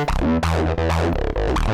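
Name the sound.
Roland AIRA Compact synth with overdrive effect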